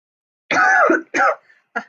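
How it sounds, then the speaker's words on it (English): A person coughs and clears their throat close up, two harsh bursts followed by a shorter third one, in otherwise quiet surroundings. "Sorry, cough."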